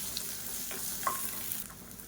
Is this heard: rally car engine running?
no